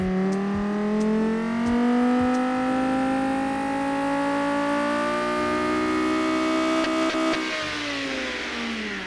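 A video game sports car engine modeled on a Gen 6 Viper revs up steadily, its pitch climbing in a long smooth sweep before easing off near the end, loud and close.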